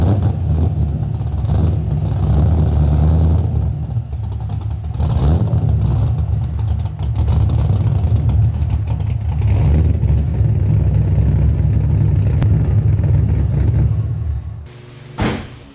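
A Mazda RX-7 is driven a short way to a new spot, its engine running loud and close with revs rising and falling throughout. The engine then cuts off, followed by a brief thump near the end.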